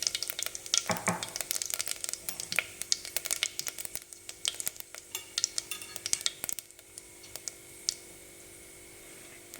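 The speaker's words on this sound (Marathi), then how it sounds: "मस्त आता तडतडतोय कढीपत्ता आपला" Curry leaves and a pinch of cumin splutter in hot oil for a spiced lentil amti. Rapid, irregular sharp crackles and pops come up close and fairly loud, thinning toward the end, with no speech.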